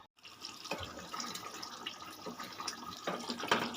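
A little water poured into a pan of Bengali-style cauliflower roast, a steady splashing stream running for several seconds at close range with no talk.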